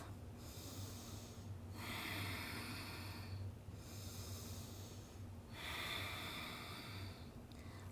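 Deep, slow breaths during a yoga forward fold: long airy inhales and exhales come in a steady cycle of about three breaths, close and soft, with no speech.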